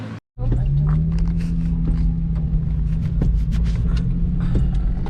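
Inside a moving car just back from the beach as rain begins, a loud, continuous low road rumble fills the cabin, with scattered creaks and small knocks and no voices.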